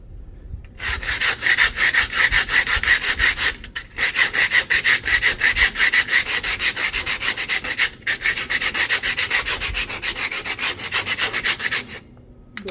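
Brake shoes on an old 1952 vehicle being sanded by hand with coarse 40 grit sandpaper, a loud, steady scratchy rasp in long back-and-forth strokes, broken by two brief pauses and trailing off at the end.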